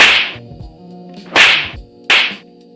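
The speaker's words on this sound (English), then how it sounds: "as you can hear, there's a fake punching sound" Three sharp, punchy whooshing hits land in an uneven rhythm, close and loud, each a fake punch sound effect in a homemade fighting game made in Unity, with faint low tones underneath.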